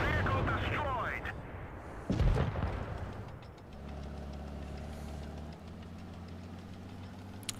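A tank's high-explosive shell firing in a video game, one booming shot followed by a low idling engine rumble that continues steadily underneath.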